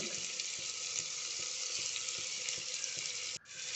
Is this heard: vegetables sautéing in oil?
yes